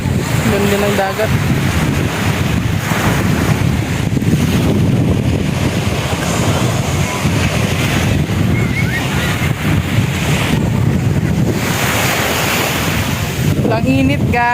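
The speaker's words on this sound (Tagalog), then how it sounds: "Ganda ng dagat." Continuous rushing sea waves on a beach mixed with heavy wind buffeting the microphone, loud and steady throughout, with faint voices briefly at the start and end.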